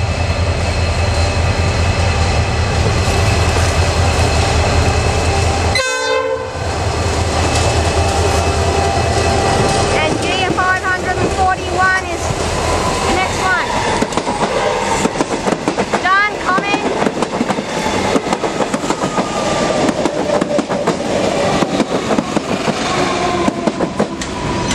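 Locomotive XR 552 hauling a long steel train near Glenhuntly rolls slowly past, a sustained rumble with rhythmic clickety-clack of wheels over rail joints and a sharp brief clank near the start.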